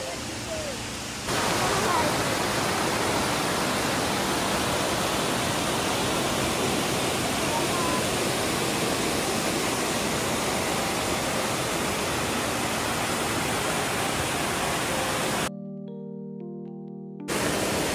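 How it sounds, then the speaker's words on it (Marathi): A steady, dense rush of a rain-swollen village stream fills the scene continuously, close and loud, with a brief dropout near the end. "हाच तो ओढा आहे जिथे आम्ही खेकडे पकडतो रात्रीचे"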